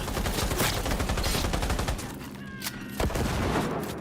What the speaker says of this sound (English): That guy got a minigun.